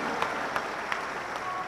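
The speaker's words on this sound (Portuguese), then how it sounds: "Palmas para Jesus." A congregation claps at a solemn session marking the centenary of the Assemblies of God church, giving a brief, steady burst of crowd applause.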